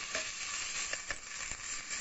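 Mutton stirred in a hot pan with ginger paste, garlic paste and turmeric, a steady sizzle under scraping spoon strokes, close and continuous, no talk.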